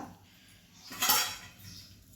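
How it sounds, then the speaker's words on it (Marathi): A metal tava griddle pan is set down on a gas stove in a home kitchen, giving one brief clank with a short metallic ring in a quiet room. "आता गॅसवर ठेवला आहे बघा तवा"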